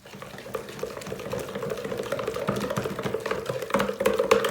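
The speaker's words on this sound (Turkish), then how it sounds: "Şimdi bunu şöyle güzelce bir çırpacağız." Sauce of red pepper flakes and sumac being whisked in a bowl, a steady wet swishing and clinking that builds slightly louder toward the end, with no voices.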